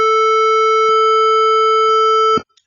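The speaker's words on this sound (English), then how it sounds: "when you apply the echo on it" Steady synthetic tone generated in Audacity with an echo effect applied, a loud pure pitch with faint harmonics holding unbroken for over two seconds before cutting off abruptly, followed by brief faint echo blips.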